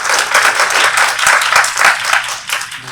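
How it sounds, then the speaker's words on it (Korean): Loud, dense applause from an audience at a Korean academic forum on intangible cultural heritage, many hands clapping steadily and close for a few seconds with no voices. "큰 박수를 모시겠습니다"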